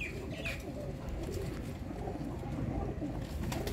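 Rare Zeera Sharmila pigeons coo softly and repeatedly over a steady background rumble, with a few faint chirps mixed in.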